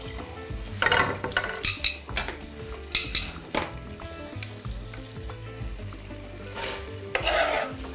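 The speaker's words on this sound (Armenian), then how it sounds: "տապակում ենք կարմիր սոխը" Red onion frying in a pan for a beef liver sauce while being stirred: repeated scraping clinks and clattering strokes of the utensil over a steady sizzle, close and moderately loud, with no talking.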